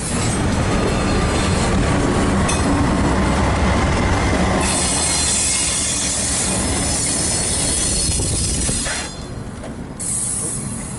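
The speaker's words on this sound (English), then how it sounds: "We got to the yard and saw this train moving." Loud, continuous rumble and rattle of a long freight train rolling along rails through a yard, with screeching wheel squeal and a hissing wash throughout.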